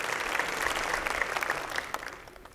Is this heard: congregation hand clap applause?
yes